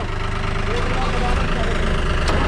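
A New Holland tractor engine runs at a steady idle, a continuous low rumble with even vibration throughout, while voices talk over it nearby.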